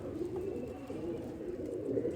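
A Qasori pigeon coos softly and steadily at close range in a brief, continuous murmur, with no voices.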